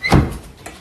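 A courtroom door swings closed with one solid thunk and a faint second knock after it, close and loud, with no talking.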